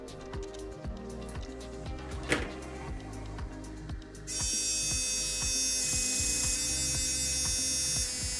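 Repaired Philips Sonicare electric toothbrush buzzing on the bench, a rapid mechanical rattle that shifts into a louder, steady high-pitched whine midway through, close and continuous.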